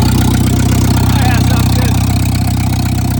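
A manual Volvo 960 turbo engine runs steadily at a close, loud idle with a constant low rumble, fitted with a temporary setup still lacking its downpipe and wastegate mount.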